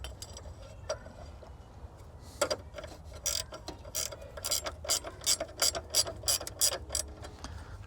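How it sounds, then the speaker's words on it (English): A ratchet wrench tightens the battery bolts on a Nissan Frontier, its pawl clicking in rapid close bursts that grow louder and more regular toward the end. "just like the same wrench we used to take it all apart, get these guys going."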